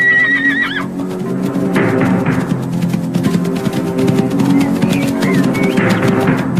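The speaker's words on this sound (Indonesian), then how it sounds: "Kenapa kudanya ditinggalkan di sini?" Horse whinnying loudly near the start with a wavering high call, then a second shorter neigh near the end, over a dense layer of dramatic background music throughout.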